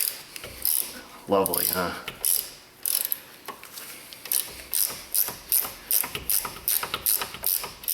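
On a Chrysler Pacifica's front lower control arm, a ratchet wrench turns a bolt in a close series of quick, rhythmic clicking bursts with short pauses between strokes, and someone speaks briefly.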